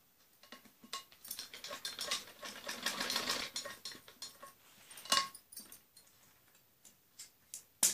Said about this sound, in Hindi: ऐसे दोनों पीस को मिला के और इसको ऐसे सिलाई लगाते हैं